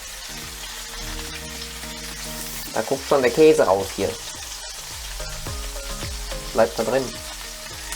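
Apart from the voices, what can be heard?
patties frying in a pan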